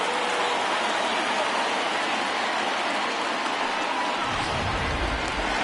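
Rain falls on a ballpark in MLB The Show 19 during a Cubs vs. Nationals playoff game, a dense, steady hiss of rainfall. A low rumble swells near the end, and no voices are heard.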